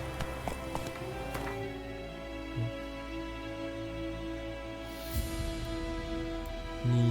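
The horse Roach gallops in The Witcher 3 game, hooves clip-clopping in a steady rhythm against a humming music bed, with a few sharper hoof impacts standing out.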